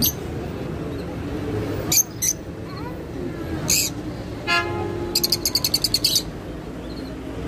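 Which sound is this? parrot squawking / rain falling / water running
parrot squawking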